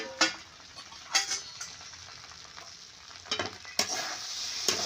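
Soft sizzling of okra frying in a pan, with several sharp scraping stirs at irregular intervals over a continuous hiss, close up.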